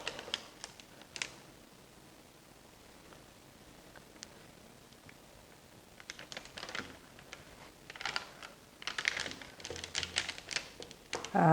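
A knife presses through a slab of homemade chewy toffee-style caramel, cutting it into strips and then pieces, giving sparse soft taps and clicks that cluster into brisker bursts toward the end.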